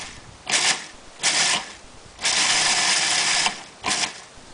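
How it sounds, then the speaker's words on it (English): Food processor pulsing nuts and seeds for veggie burgers: four loud, bright whirring bursts, each under a second except one longer run, separated by short pauses, close and without talk. "So I'm going to put them on the pulse notch just to do them a little bit so that they don't turn into flour."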